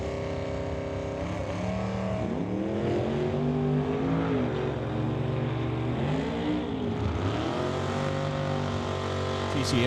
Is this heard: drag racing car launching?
yes